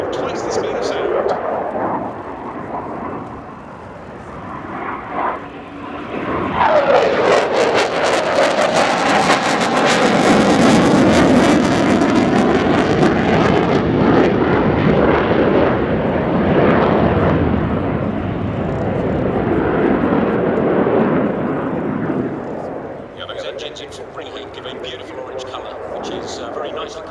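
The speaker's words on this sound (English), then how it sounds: "the power of the two-year-old J200 turbofan engines when they're at afterburner" RAF Typhoon FGR.4 jet at an air show display, its twin turbofan engines in afterburner building to a loud, rumbling roar that swells over several seconds, holds heavily, then fades as it passes.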